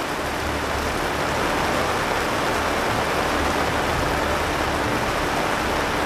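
Heavy rain pours down steadily at a campsite, a dense, unbroken wash of close downpour with no voices.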